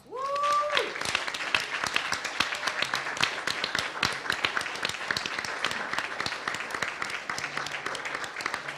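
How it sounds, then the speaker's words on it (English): A crowd applauding steadily throughout, dense clapping at a fairly loud level, with a brief voice at the very start. "So please give them a round of applause."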